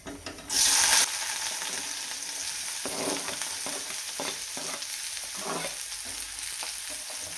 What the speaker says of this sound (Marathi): आता ह्याच्यामध्ये फक्त कांदा टाकायचा आहे